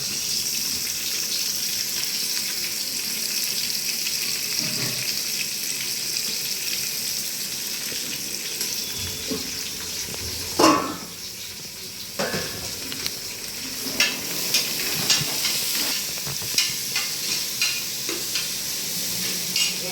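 Five medium onions fry and sizzle in a pot while being stirred for village-style country-chicken biryani. The sizzle is steady and close, with scraping stir strokes and a few sharp clinks, and there is no talking.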